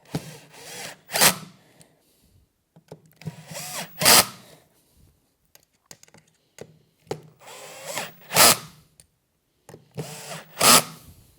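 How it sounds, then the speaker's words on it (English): A power drill tightens screws on the spring bar of a Contrology Pilates reformer, several short loud whirring bursts separated by quiet pauses. "I'm going to hold the spring bar in place as I tighten the screws so that it doesn't move."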